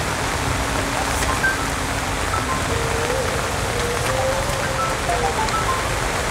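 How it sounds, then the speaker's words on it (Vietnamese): Steady heavy rain pouring down, a dense continuous hiss of drops on surfaces with no pauses. "Trời ơi mới sáng mưa dữ kìa"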